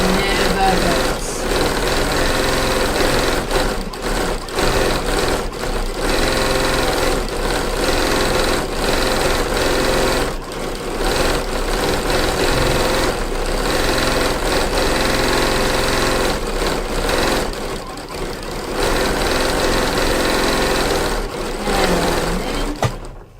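An embroidery machine stitches a quilt block, a continuous close mechanical whirring and rapid needle chatter running throughout with brief dips, no talking over it.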